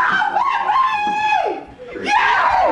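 George Floyd's family cheering and shouting after the verdict, loud excited voices and screams blending together, close and sustained.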